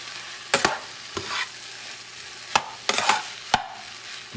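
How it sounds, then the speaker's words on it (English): Leftover carne mechada, beans and sofrito stirred together in a frying pan, with a steady soft sizzle and several sharp scraping clacks of the utensil at irregular intervals, close and moderately loud, no talking. "I'm going to mix everything together."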